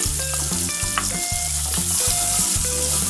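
Onions frying in bacon fat, a loud continuous close sizzle with a steady crackle and recurring low stirring thumps, no voices.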